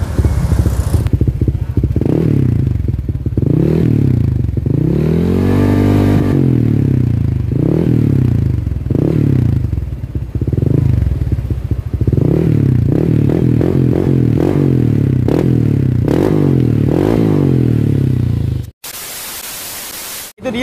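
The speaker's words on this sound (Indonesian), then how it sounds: "gua penasaran banget sama suara knalpotnya guys" A Honda Vario 125 scooter with a modified aftermarket exhaust revs loudly at close range, its pitch swelling and falling in repeated throttle blips over a rough idle, before the sound cuts off abruptly near the end.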